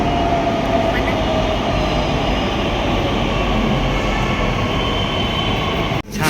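Pune underground metro train pulling into a station, a loud, steady roar and rumble of wheels and hissing air filling the space, ending in an abrupt break near the close.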